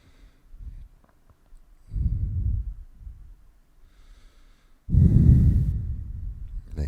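Audible breaths during a yoga forward fold in a city yoga class, two soft breathy swells followed by a longer, louder exhale, close and alone without talk.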